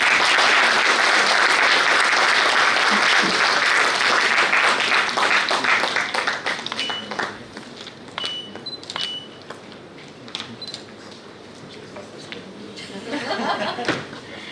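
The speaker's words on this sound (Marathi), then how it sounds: "जोरदार टाळ्या होऊन जाऊ द्या एकदा." An audience at an anaesthesia medical workshop in Aurangabad claps loudly, the dense applause thinning after about six seconds into scattered claps, then swelling briefly again at the end; a few chuckles mix in.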